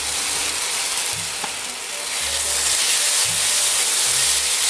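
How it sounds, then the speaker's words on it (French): Tomatoes cooking down in a pan as their water evaporates, a loud steady hiss and sizzle with occasional low bubbling pops, close up with no talking. "Voilà, vous faites bien compoter les tomates. Vous évaporez le maximum d'eau que vous pouvez évaporer."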